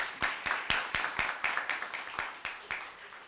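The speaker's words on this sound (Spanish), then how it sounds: "Un aplauso." A small group claps for a few seconds, the claps distinct and fairly regular, moderately close, with no voices over them.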